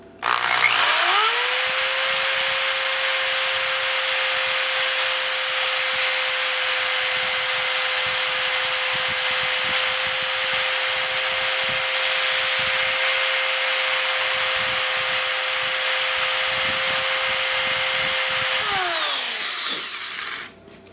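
Harbor Freight drill bit sharpener grinding a drill bit on its stone, a steady high motor whine with a grinding hiss that spins up, holds for about eighteen seconds, then winds down.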